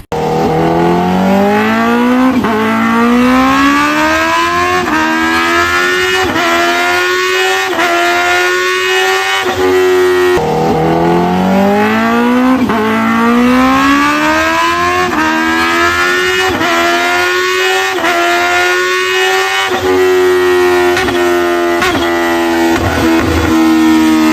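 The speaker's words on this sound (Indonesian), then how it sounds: "Pemenang balapan malam ini adalah Black Vulcan" Racing car engines in the video game Sakura School Simulator roar loudly and continuously, revving up in repeated rising sweeps as gears shift, with no talking over them.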